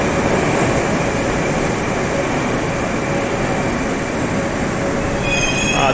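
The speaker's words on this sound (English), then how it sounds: "This looks like one of these modern trains." A modern Russian metro train runs with a steady loud rumble and hiss, and wheels squeal faintly near the end.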